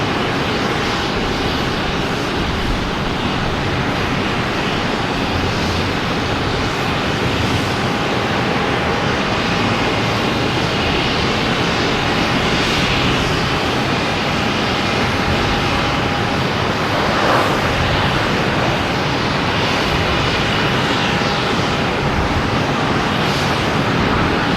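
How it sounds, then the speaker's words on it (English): A United Airlines Boeing 757 lands on runway 4 Right at Boston Logan, its engines making a steady, loud jet roar that holds for the whole stretch, with a faint whine above and wind blowing across the open spotting area. "flight 2156, a 757. Landing on 4 right."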